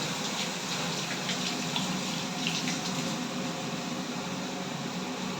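Running tap water pours in a steady, even rush while hands are washed in a home kitchen, close and uninterrupted throughout.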